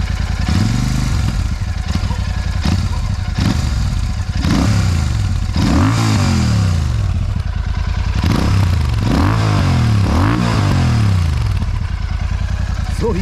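A Royal Enfield Super Meteor 650 twin-cylinder motorcycle fitted with an AEW aftermarket exhaust revs repeatedly, each throttle blip rising and falling in a loud, close, deep burble, roughly six rev cycles back to back.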